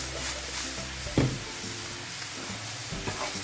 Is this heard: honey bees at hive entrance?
no